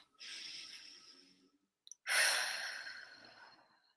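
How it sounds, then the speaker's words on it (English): A single deep breath taken during a guided EFT tapping session for procrastination: a long, soft, airy inhale, a brief pause, then a louder, breathy sighing exhale that slowly fades, close to the microphone with no talking. "Let's take a deep breath."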